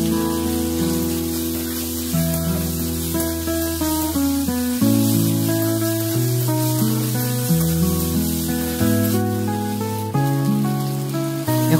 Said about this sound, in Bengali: এখন এটার মধ্যে আমি দিয়ে দেবো কাঁচা মটরশুঁটিটা, যাতে এটাও একটু ফ্রাই হয়ে যায়।